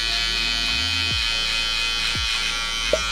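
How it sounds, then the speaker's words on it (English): An electric shaver buzzes steadily and close by while trimming hair for a drop fade, with its pitch dipping briefly a few times as it presses against the head. "Now with our shaver, we're gonna go up"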